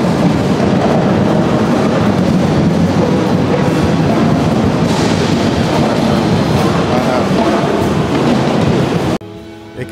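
A busy music trade show floor at NAMM fills the air with a dense, loud roar of crowd chatter and mixed instruments, constant and overwhelming until it cuts off abruptly at the end.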